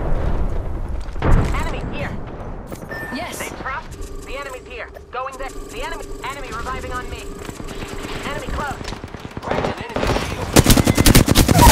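Automatic and single gunfire in the video game Apex Legends, bursts of shots with sharp transients rising to dense loud firing at the end, mixed with game voice callouts and effects.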